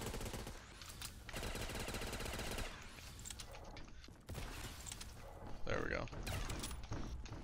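A full-auto STG rifle in a zombie video game fires in sustained rattling bursts, loud and close, separated by short pauses and mechanical clicks.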